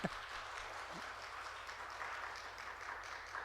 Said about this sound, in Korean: 고개만 돌려도 박수를 받는 건가요?